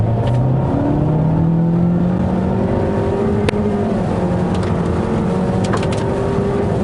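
Honda HR-V Turbo crossover SUV accelerating hard at full throttle from 0 to 100, a steady engine drone with rising tones and continuous road and wind noise, close and fairly loud with no talk.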